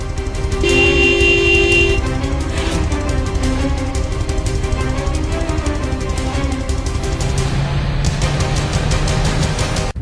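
A car horn sounds in a loud, sustained honk near the start, then repeated tooting runs over busy street traffic noise, close and continuous across the whole stretch.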